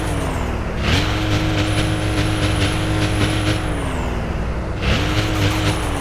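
Franklin's car from GTA 5 engine droning loud and steady at speed, pitch holding, dipping briefly then climbing again as it shifts, with faint rumble and high whine throughout.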